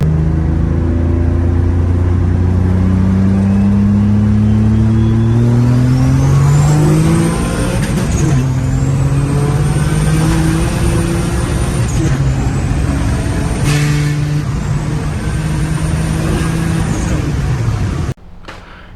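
A turbocharged VQ engine in a 2003 Nissan Maxima revs hard through its final pull before spinning a rod bearing, climbing repeatedly through the gears with a rising whine, loud and close, then cutting off abruptly at the end.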